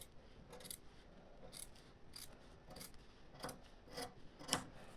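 Scissors snip through fabric while cutting out the neckline of an agbada gown, faint crisp cuts coming in a loose series of about eight, some closer together, with no voices.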